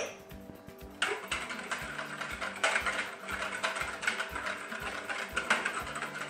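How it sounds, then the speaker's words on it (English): A whisk beats yeast water, black treacle, egg and oil together in a bowl for wholemeal bread, giving repeated rhythmic clattering strokes, close and moderately loud. "I'm just going to whisk in my egg and my oil. So we'll give them a good whisk together."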